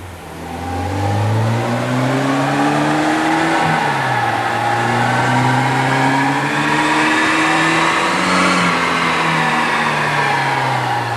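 A tuned Peugeot 205 GTI with ported cylinder head and high-flow exhaust revs loudly and close, its engine note repeatedly rising and falling through several sustained pulls.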